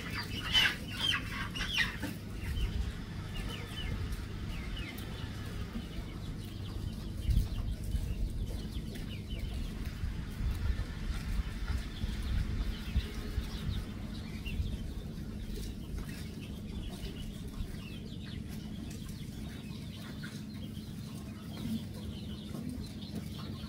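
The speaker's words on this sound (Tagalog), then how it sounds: "Yung manok natin nandito" Chickens cluck steadily at a farm, joined by occasional flapping wings, with a low background rumble throughout.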